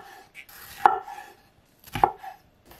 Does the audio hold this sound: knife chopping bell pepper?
yes